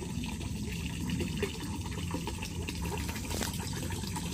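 A liquid solution meant as a remedy for whitefly and rugose wilt is poured out in a soft, continuous splashing trickle, fairly quiet and without any talking.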